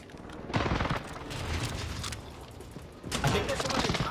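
Bursts of gunfire in Call of Duty: Modern Warfare, coming in two or three dense volleys over steady background noise, with a player talking quietly underneath.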